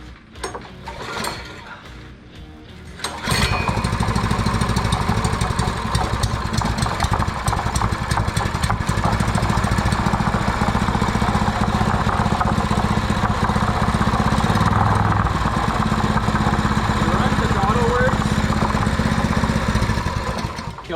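Predator 224cc 6.6HP small engine, a few quiet mechanical sounds, then the engine catches around three seconds in and runs at a steady, loud, close throttled rattle for the rest of the clip.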